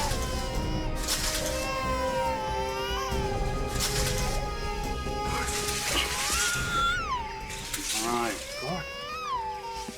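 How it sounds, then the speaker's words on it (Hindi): An infant wails in long, rising and falling cries outdoors near bushes in a crime-drama scene, the sound carrying steadily while adults talk over it. "ये बच्चे के रोने की आवाज तो नीचे से आ रही है।"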